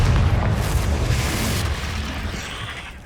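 A Confringo fire-blast spell explodes in the Hogwarts Legacy video game, a loud deep boom at the start that rumbles on and slowly fades over a few seconds, with no voices.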